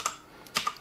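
A few crisp computer keyboard keystrokes sound close and fairly quiet, spaced irregularly with short gaps between them.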